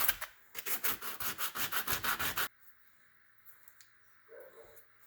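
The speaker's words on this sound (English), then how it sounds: "I'm going to scruff it up with sandpaper" Rapid back-and-forth rasping of sandpaper scuffing a rusted motor shell on a BMW 750iL E32, a run of about a dozen loud strokes that stops abruptly, leaving faint clicks and handling noise.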